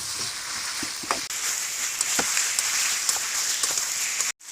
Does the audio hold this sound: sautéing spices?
yes